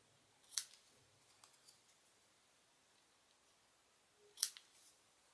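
Paper-crafting snips cut paper for a handmade Stampin' Up! anniversary card; two sharp, close snips sound about four seconds apart over a quiet room, with faint handling noises between them.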